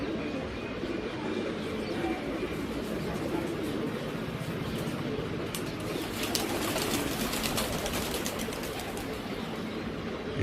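Steady low pigeon coos at a pigeon-flying contest blend into a dense, continuous murmur of birds, with occasional soft flutters and higher chirps, no talking.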